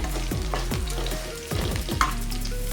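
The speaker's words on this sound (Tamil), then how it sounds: "இப்போ பூண்டு வந்து நல்லா வதங்கிடுச்சு" Garlic sautéing in oil in a pan for murungai keerai poriyal, giving a steady close frying hiss with repeated scraping stirs and a few metallic clinks.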